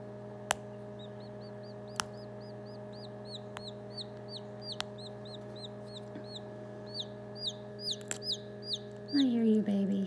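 A newly hatched chick, still caught in shrink-wrapped membrane, peeps in a steady run of high, bright chirps over a constant hum, close and fairly clear, with a louder rustle at the end.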